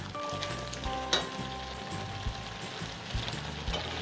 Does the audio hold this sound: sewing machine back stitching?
no